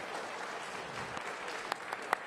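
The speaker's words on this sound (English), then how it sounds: "Round of applause for Les Binet" An audience applauds a guest speaker, Les Binet, at an advertising and music industry talk, a steady, fairly quiet wash of clapping with a couple of sharper individual claps near the end.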